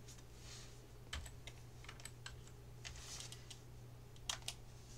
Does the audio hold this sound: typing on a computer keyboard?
yes